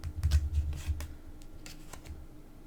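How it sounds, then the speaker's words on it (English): A tarot card deck, a Greek-themed set, being shuffled and a card pulled, giving soft papery riffles and flicks in short bursts close by, fading to lighter rustles, with no talking. "I guess I can pull a second card for that"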